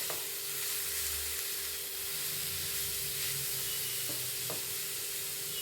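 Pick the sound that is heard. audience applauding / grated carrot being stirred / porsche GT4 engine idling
grated carrot being stirred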